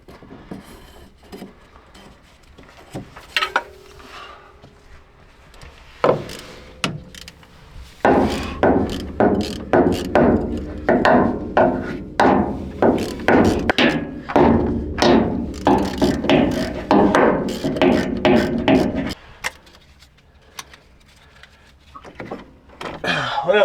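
Ratchet wrench loosening the carburetor on a rare old GMC truck left abandoned for 30 years: a few scattered clanks at first, then long runs of quick, close, rhythmic ratcheting clicks that stop abruptly near the end.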